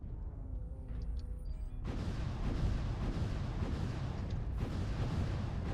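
Mech weapons firing in MechWarrior Online, a heavy continuous barrage of rapid booming shots that starts abruptly and rumbles on steadily.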